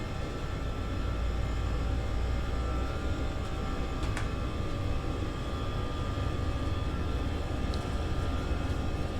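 Alitalia Airbus A320 engines spooling at flex takeoff thrust in a flight simulator, a steady loud broadband roar with a constant whine, no talk.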